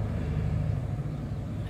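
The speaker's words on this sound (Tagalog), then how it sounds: "K6E ang kanyang engine ng Wagon R na ito." Suzuki Wagon R with a K6E engine idling close by, a steady low rhythmic rumble with no break across the short stretch.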